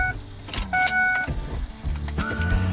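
A family car, kept since 2003 and about to be sold, heard up close on its final drive, with mechanical whirs and clunks like power windows or door actions over a low engine rumble in short bursts.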